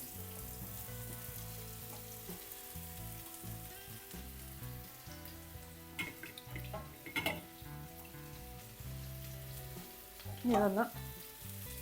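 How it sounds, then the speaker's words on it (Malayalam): Bitter gourd frying in coconut oil in a pan, a soft steady sizzle with a few stirring scrapes and clatters, a voice speaking briefly over it. "പാവയ്ക്ക ഇട്ട് കൊടുക്കാം."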